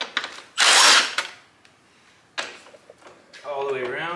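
Ratchet loosening 10mm bolts on the grille shutter of a 4th gen Toyota Tacoma, heard as bursts of rapid mechanical clicking, one loud close burst then quieter ones, with a voice speaking near the end.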